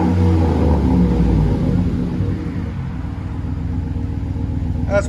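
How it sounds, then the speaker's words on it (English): A 2009 Chevrolet Silverado Z71 LT with the 5.3-liter V8 and Flowmaster Super 10 dual exhaust idles close by, giving a steady deep rumble that eases slightly partway through, with no talking. "That's what it sounds like at idle."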